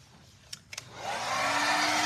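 A hair dryer switches on with a couple of clicks and ramps up to a steady, loud whooshing whir as it dries a freshly painted antique-style Italian furniture finish.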